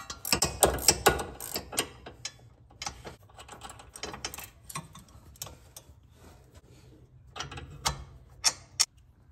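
A ratchet loosens a rusty sway bar end link nut on a car, making bursts of rapid clicking interspersed with pauses and occasional metallic knocks, close and fairly loud.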